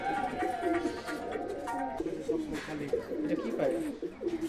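A closed-tail high-flying pigeon kept at a home in Katwa coos in low, rolling bursts near at hand, repeated several times against a faint background.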